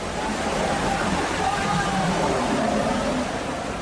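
Floodwater surges in a fast, roaring torrent through a street in Kutch, Gujarat, carrying away motorbikes one after another; a steady, loud rushing wash fills the whole stretch with faint voices beneath it.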